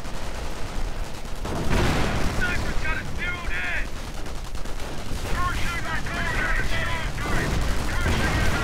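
Dense gunfire in a WWII strategy game battle, with riflemen taking sniper and small-arms fire from Volksgrenadiers: a continuous loud crackle of shots and bursts with ringing metallic impacts, a faint voice now and then underneath.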